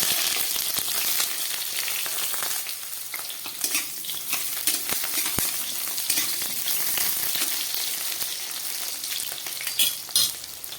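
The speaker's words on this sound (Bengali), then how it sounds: "বড়া ভাজার তেলের মধ্যে আমি বেগুনগুলোকে ভেজে নিচ্ছি।" Eggplant pieces frying in oil left over from frying fritters crackle loudly and steadily, with sharp pops and occasional stirring clicks close by and no talking.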